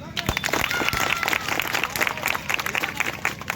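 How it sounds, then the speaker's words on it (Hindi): An audience applauding at a mushroom-growing gathering in Kanhwara, Godda, with dense, lively clapping that holds steady throughout the short stretch, alongside voices in the background. "एक बार सब मिलके आप अपने लिए ताली बजाएं।"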